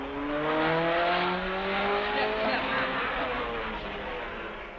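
A Triumph Spitfire race car at the 1965 Le Mans 24 Hours roars loudly away from the pits after bodywork repairs, its engine note rising steadily through the gears and fading slightly over a few seconds.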